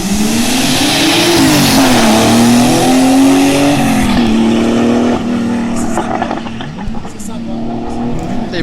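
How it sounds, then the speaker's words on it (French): Porsche 935 Turbo race car at a hill climb course, a loud close engine roaring and rising through gears, then fading as it moves away, with a commentator talking over it. "c'est l'autre Porsche maintenant, mais c'est 935 je crois"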